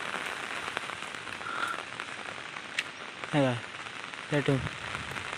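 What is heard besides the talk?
heavy monsoon rain in Konkan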